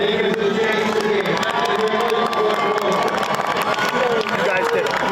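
A crowd at a West Boylston vs Randolph game cheers and applauds continuously, with shouts and claps blending into a dense roar as voices talk over it.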